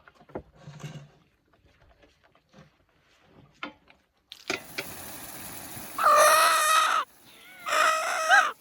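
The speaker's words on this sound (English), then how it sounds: "Chickens are out." Chickens cluck softly in scattered bursts near a farm, then a rooster crows loudly twice, each crow a long ringing call close by.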